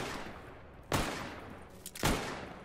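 Gunfire in the video game S.T.A.L.K.E.R. GAMMA: two separate bursts of shots about a second apart, sharp and fairly loud against a quiet background, with a fainter crack just before the second burst.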